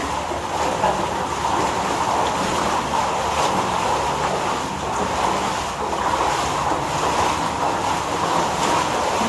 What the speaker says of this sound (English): We're coming up to that water. Very loud.